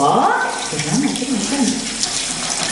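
Tap water runs steadily into a sink at a kindergarten as children wash their hands, a close, continuous splashing with a few faint sliding tones mixed in.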